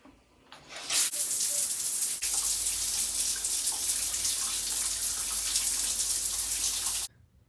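A hot shower runs close by as a loud, steady hiss of spraying water that starts abruptly, holds constant for about six seconds, then cuts off sharply.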